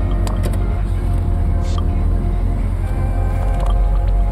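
A 1967 Chevrolet Impala Custom rumbles steadily as it pulls away for a drive, a loud low engine drone heard from inside the car with no talk.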